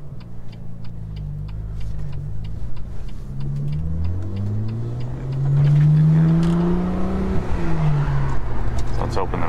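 A BMW M2 CS with its exhaust valves open while driving, a loud engine drone that climbs in pitch under acceleration, then settles back down.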